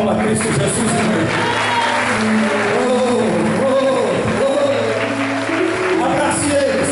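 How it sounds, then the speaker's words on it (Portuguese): Church congregation claps amid loud, dense crowd noise, with voices and a sustained musical or tonal hum running throughout, the clapping blended into a constant roar rather than standing alone. "Uma salva de palmas para Cristo Jesus, irmão"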